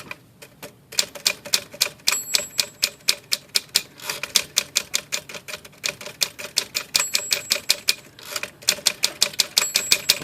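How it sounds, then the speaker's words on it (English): Smith Corona manual vintage typewriter, its bell freshly repaired, typed in a steady rapid rhythm of close, sharp key strikes, with the bell dinging clearly several times at line ends and no talking. "bell repaired on the Smith Corona Typewriter"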